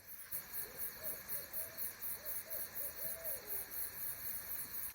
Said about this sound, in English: I hear this owl out here.